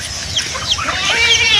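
An Aseel hen clucks a few short, nasal calls at moderate distance over an outdoor background hum.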